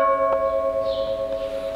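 Antique church bells of the Church of San Domenico in Varazze, one dating from 1683 and the other from the sixteenth century, hum with a sustained resonant ring that decays slowly, with a couple of light strikes.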